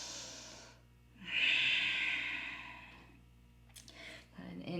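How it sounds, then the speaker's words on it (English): During a yoga flow, a slow, deep breath is drawn in and released close to the microphone, a long airy inhale followed by a softer exhale, with a faint voice at the end. "One more big breath."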